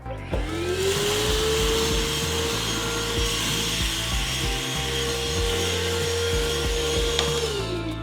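A STIHL SEA 20 cordless vacuum cleaner runs loud and close while sucking up flour: its motor whine spins up at the start, then holds steady under a rough rubbing of the nozzle across the surface.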